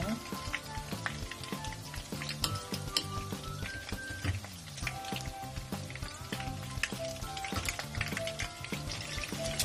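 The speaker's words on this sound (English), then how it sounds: "Lutuin natin siya guys, hanggang maging golden brown na yung ano, yung pork natin." Pork fries in a pan toward golden brown, a dense steady sizzle and crackle held at moderate level throughout, with a few scattered utensil taps.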